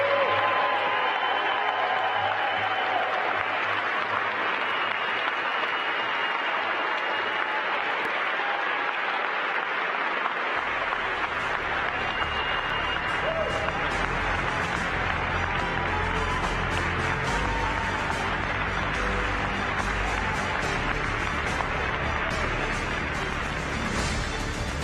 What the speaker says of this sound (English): so they can get a huge round of applause